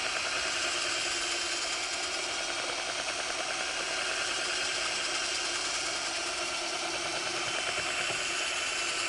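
A handheld power mixer churns two-part epoxy in a bucket, a steady whirring motor drone with a slightly rough, vibrating texture, continuous and close throughout without speech.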